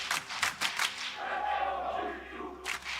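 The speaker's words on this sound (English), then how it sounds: "The fans begin to cheer." Fans in an esports arena at an LEC 2022 Spring playoff League of Legends match between G2 and Fnatic raise a broad, sustained crowd roar, with sharp rhythmic chant bursts at first, then a steady swell.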